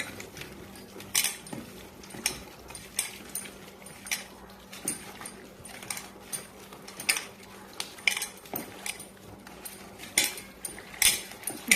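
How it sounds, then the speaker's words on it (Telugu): Chicken pieces are mixed with turmeric and salt in a metal vessel for pickle, producing irregular clinks, clatters and scraping knocks throughout, fairly close and with no talking. "ఒక స్పూన్ పసుపు ఒక స్పూన్ సాల్ట్ వేసి బాగా కలిపి"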